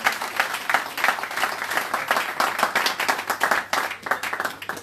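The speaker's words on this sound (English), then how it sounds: "Please give him a round of applause." Audience at a London town hall meeting and fundraiser breaks into sustained applause, a dense, steady wash of many hands clapping close by, holding at an even level throughout without speech.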